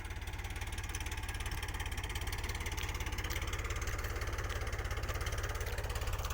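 A tractor engine idles and chugs steadily on a farm during a groundnut harvest, a continuous low rhythmic throb with a whirring overlay, moderately near and unbroken, with no voices.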